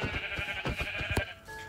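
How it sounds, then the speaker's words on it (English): Several short sheep bleats from a blocky video game, several clustered near one another, sounding close and fairly loud over a steady background music bed. "I saw two sheep right beside each other"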